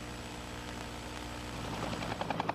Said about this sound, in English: A National Guard chopper lands at the Asheville Regional Airport for refueling.